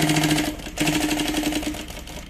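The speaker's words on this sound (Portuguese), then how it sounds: "O tecido principal, que os bolsos têm o molde, passa uma costurinha bem na beiradinha." A sewing machine stitches close along the edge of a pocket lining on the main fabric, a steady mechanical whir that pauses briefly, then runs on at an even pace, close and clear.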